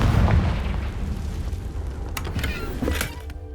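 Confringo blasting spell from the Hogwarts Legacy video game, a muffled low rumbling blast that swells at the start and trails off amid faint crackling debris.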